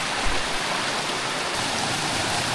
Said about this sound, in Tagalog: Lumakas na rin po yung tubig dito sa sapa natin.